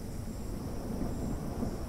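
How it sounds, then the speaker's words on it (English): Low, continuous rumble of thunder in a storm in the video game Beasts of Bermuda, a steady dense roll with no clear peaks, heard alone without speech. "We have a storm coming. There's some thunder and such."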